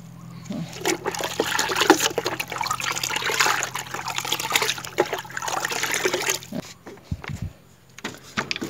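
A soil treatment is stirred into water in a bucket to prepare old potting soil for reuse, giving steady sloshing and swirling water close by, then a few splashes and drips as it slows.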